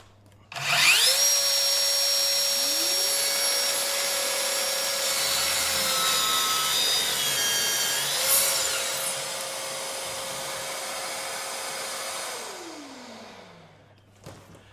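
An 18-volt cordless plunge-cut circular saw, KT 18 LTX 66 BL, whines up to a high steady pitch, cuts through wood with a rough buzzing rasp for several seconds, then spins down.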